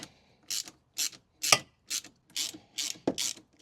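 Fittings on the injector rail of a Porsche 944 being undone with a ratchet: a series of short clicking bursts in an uneven rhythm, close and fairly loud, with no talking.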